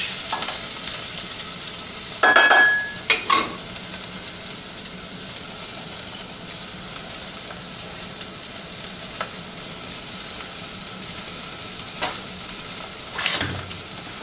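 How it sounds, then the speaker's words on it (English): Tomato paste frying with soft, limp vegetables in a pan for a vegan bell pepper jambalaya, a steady low sizzle with a few louder stirring clatters. "cook in the tomato paste until it's slightly darkened"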